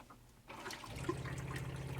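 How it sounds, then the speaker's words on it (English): In a 1988 Dodge Class B RV, the new freshwater pump kicks on after a brief quiet moment and water starts rushing steadily through the plumbing, close and moderately loud. "since I have the new water pump hooked up, and it is on"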